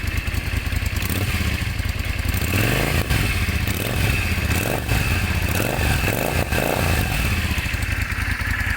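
A 2004 Yamaha Drag Star 400 Classic motorcycle engine runs loud and close, its throttle blipped repeatedly in quick rhythmic revs over a rough, rattling idle.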